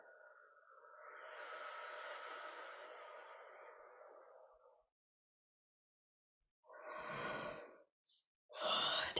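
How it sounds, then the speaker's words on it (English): During a guided breathing exercise, a long, slow breathy exhale through the mouth lasts several seconds and fades out. After a pause, further soft breaths follow, close and quiet. "Inhale, inhale a little more, and then exhale through the mouth,"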